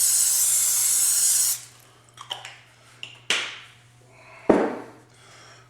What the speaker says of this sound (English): we're going to take some spray and spray the bottom of the pan